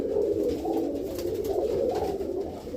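Pigeons coo close by in soft, low, rolling calls that repeat continuously, layered over one another with no talking.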